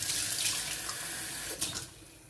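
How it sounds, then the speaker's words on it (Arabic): Hands rinsed under a running kitchen tap, a steady close rush of water splashing into a sink with a brief change in the flow near the end, no talking. "باه نغسل يديا"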